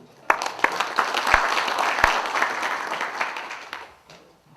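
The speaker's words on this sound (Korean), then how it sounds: "박수 한번 주세요." Attendees at a labour union representatives' meeting break into applause, a dense patter of many hands with a few sharp louder claps, swelling quickly and tapering off near the end.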